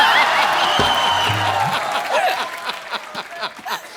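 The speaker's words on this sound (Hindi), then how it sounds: "सोनाक्षी के लिए जोरदार तालियां" A studio audience at a comedy television show breaks into a burst of applause with some chuckles, loud at first and then thinning out as a voice talks.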